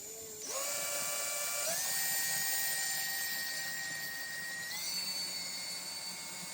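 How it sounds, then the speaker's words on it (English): A small drill whines steadily as it bores through a thick silver band clamped in a bench pin, its pitch stepping upward a few times as the bit speeds up and bites, close and continuous throughout. "See if we can't just drill this."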